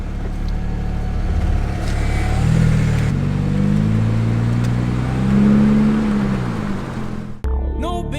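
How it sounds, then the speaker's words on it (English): Car with newly replaced brakes being driven to bed them in, engine rising and falling through gears with rumbling acceleration from inside the cabin, ending abruptly as music cuts in. "Now I'm just gonna bed in the brakes and we should be done with the car."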